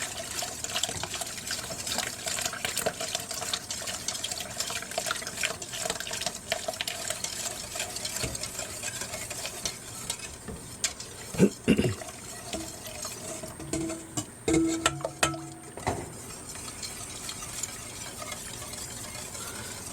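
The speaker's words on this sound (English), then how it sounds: "I'm going to stir as I pour this egg mixture into the milk and sugar mixture." Egg mixture is stirred while being poured into a milk and sugar mixture for homemade raw goat milk ice cream, giving a continuous liquid trickle and swish with a few clinks midway, faint and steady.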